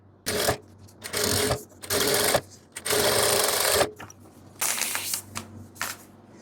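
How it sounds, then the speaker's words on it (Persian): Sewing machine stitching stretched knit jersey fabric in bursts of rapid mechanical chatter, several runs separated by short pauses, close and loud with no talk. "پس حتما پارچه رو میکشم و شروع به دوخت میکنم."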